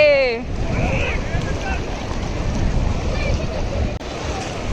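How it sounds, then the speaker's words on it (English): Ocean waves wash up on Baga Beach in Goa as a continuous rushing surf, with wind buffeting the microphone and faint voices in the background. "see the waves."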